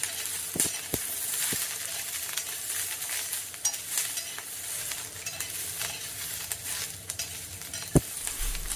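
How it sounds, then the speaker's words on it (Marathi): Green chillies and garlic roast in a hot pan, giving a steady close sizzle and frying crackle throughout, with a few sharp clinks of a spoon or spatula stirring against the pan. "मिरच्या छान मस्त भाजलेत, अजून थोड्याशा भाजायला हवे."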